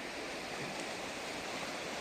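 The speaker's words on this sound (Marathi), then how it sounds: "मस्त आहे पाणी खळखळखळ खळ वाहते" Water from the swollen Yerala river rushes and gurgles steadily below a bridge parapet, a constant broadband wash of flowing water with no breaks, heard fairly faint and alone.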